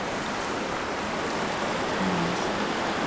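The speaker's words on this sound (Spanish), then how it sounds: "Por ahí sigue saliendo agua" Floodwater after storm DANA in Murcia keeps pouring out, a steady broadband rush of flowing water that stays even and moderately loud throughout with no voices.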